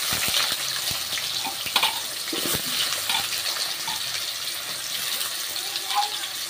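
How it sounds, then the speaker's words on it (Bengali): Raw banana and potato pieces fry in hot oil, giving a steady, fairly loud hiss and crackle throughout, with a few faint clinks from stirring. "কাঁচকলা আর আলুটাকে ভাজবো,"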